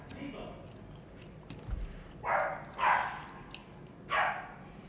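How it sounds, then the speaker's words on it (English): A pet dog barks indoors several times in short, sharp bursts, four loud yaps spaced irregularly over a low room hum, with a faint voice briefly audible early on. "If you hear somebody barking, it's not my wife, okay, it's my dog."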